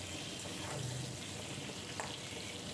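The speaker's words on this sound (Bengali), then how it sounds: "আলুগুলো তেলের উপর দিয়ে আলুগুলোও ভেজে নেব।" Potato pieces frying in hot oil in a home kitchen pan, a steady close sizzle with a soft scrape or stir near the end and no talking.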